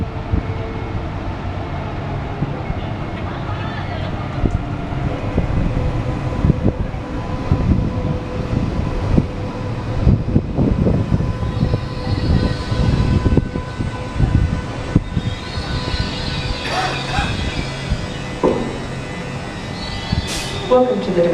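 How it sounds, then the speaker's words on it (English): A train from the Gold Coast rumbles steadily into the Brisbane Airport domestic station, with a low continuous rolling roar and occasional higher squeals, while people talk over it throughout. "Here's the train arriving in from the Gold Coast, past Sea Lakes through Brisbane to Brisbane Airport."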